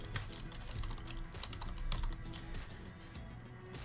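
Quick keystrokes on a computer keyboard as a sales rank figure is entered, a dense, fairly even stream of close clicks with no talking.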